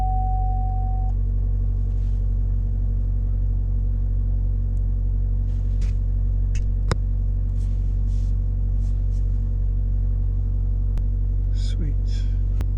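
A 2014 Chevy Volt Ecotec engine with a P0300 misfire runs after a restart, a steady low idle hum with faint clicks and brief chirps, alongside quiet voices.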